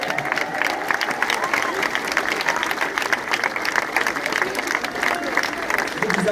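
Concert audience applauding and cheering, a dense steady wash of clapping with crowd noise throughout, loud and close, no clear speech.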